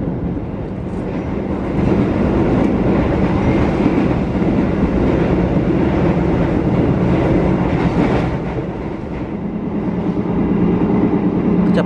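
A passenger train on an Indonesian line near Bandung rolls steadily along the rails at about 83 km/h, a continuous loud rumble with faint clickety-clack from the wheels and a brief surge partway through.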